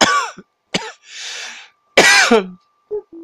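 Several harsh coughs and throat-clearing bursts come close up, separated by short pauses and a breathy exhale.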